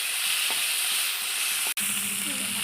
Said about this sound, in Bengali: চিংড়ি মাছগুলো দিয়ে দিয়েছে ফোড়নে। ভেজে নেবে ভালো মতন।